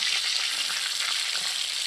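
Pieces of chicken tikka fry in a pan, giving a continuous, bright sizzle of hot oil at close range with no talk over it.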